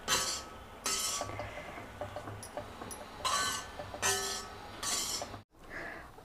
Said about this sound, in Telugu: ఇంకా ఇది బాగా కలిపేసుకొని ఒక గిన్నెకి ఎత్తేసుకోండి